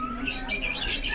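Local canaries in a breeder's shop chirp softly, giving thin, twittering trills that layer over one another at close range against steady low background noise.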